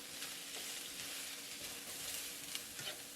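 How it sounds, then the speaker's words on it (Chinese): Broccoli stir-fried in oil in a wok over high heat gives a steady, close sizzle and crackle with a few soft stirring scrapes throughout. "用大火翻炒"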